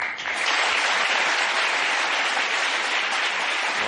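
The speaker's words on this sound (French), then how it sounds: "je vous demande d'applaudir" A television studio audience breaks into loud, dense applause that swells quickly and holds steady for a few seconds.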